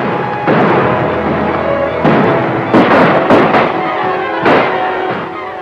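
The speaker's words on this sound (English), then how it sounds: "A lot of shooting going on out there." Gunshots in an old western movie ring out as several loud, booming reports with echoing tails, spaced irregularly and heard without talking.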